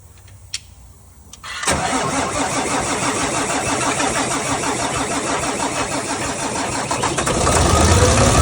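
A car engine cranks briefly and catches, then settles into a loud, steady idle close by and rises slightly in revs near the end, with a faint electric pump whine and a few small clicks before it starts.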